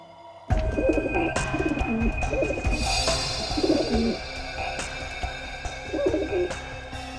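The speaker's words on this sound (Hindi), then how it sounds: "मेरे कबूतर है अंदर में" Pigeons coo in low, throaty bursts that repeat through the clip against a steady background hum.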